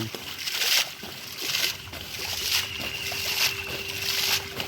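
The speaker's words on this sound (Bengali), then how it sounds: "এই জল ছিটে দিচ্ছে মাছগুলি বাঁচানোর জন্য" Water splashes and sloshes in a fish pond holding rohu and catla, in repeated rhythmic surges about once a second, moderately loud with a faint steady hum beneath.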